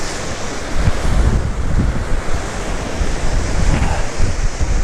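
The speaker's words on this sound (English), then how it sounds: "It is so windy and cold. And man, those are like 6-foot swells out there today." Strong, cold wind roars against the microphone along the Lake Erie shoreline while big lake swells surge and crash continuously. The gusty rumble is loud and sustained, with no voices.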